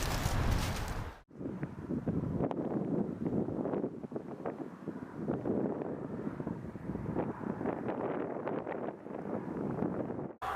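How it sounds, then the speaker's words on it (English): Wind blows at a chilly lakeside camp, buffeting the microphone with a steady, rumbling roar. A brief lull comes early, then the gusts carry on unbroken. "It's actually quite chilly out here with that wind."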